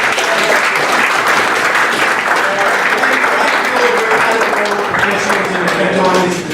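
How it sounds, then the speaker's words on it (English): Sustained applause from a crowd at a football club senior awards night, a dense, loud, steady wash of clapping that continues throughout and fades slightly at the very end. "Round of applause, guys."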